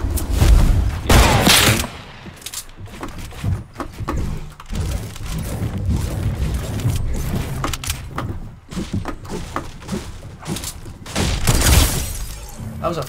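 Sniper rifle shots boom in a video game shootout among loud game effects, with heavy bursts at the start and near the end and a dense, busy mix of impacts in between, while a player talks over it.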